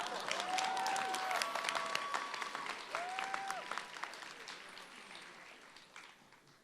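Graduation audience at a New Orleans school ceremony applauding steadily, a dense wash of clapping that gradually fades toward the end, with brief tonal sounds partway through.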